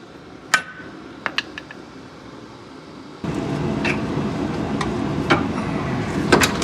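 Metal hammer blows striking a Land Rover suspension part to break it free: a few sharp, loud, separate strikes, then more scattered hits over a louder, steady workshop rumble.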